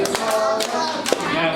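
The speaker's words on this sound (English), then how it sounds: "Now clap." Children clapping their hands at an early childhood academy classroom, a run of quick taps and claps close by, with faint voices and background chatter around them.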